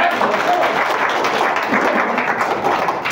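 An audience at a lecture on natural health bursts into loud, dense clapping that runs continuously for a few seconds, with murmuring voices mixed in.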